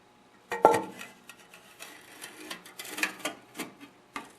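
Metal cover being fitted back onto an Ariens snowblower during friction disc repair, opening with a sharp clank and followed by a series of lighter rattles and knocks close by.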